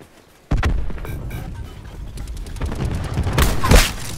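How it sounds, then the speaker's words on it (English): Cluster grenade explosions in the video game Call of Duty Black Ops 4 burst out in a rapid, rumbling sequence of blasts that builds in loudness, with a heavier crack near the end. "Cluster grenade going out."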